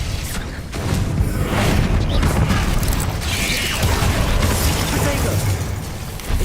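A Confringo blasting spell in the Hogwarts Legacy video game erupts amid loud, continuous combat noise, with booming bursts, mechanical clanks and whooshing effects layered together.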